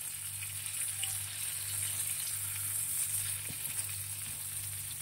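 Pointed gourd (potol) slices fry in hot oil on a low gas flame, giving a faint, steady sizzle with a soft crackle and a low background hum, no voices.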